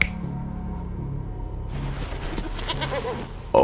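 A goat in the Sherlock Holmes Chapter One video game bleats in a few wavering cries over steady game background noise, ending in a louder burst.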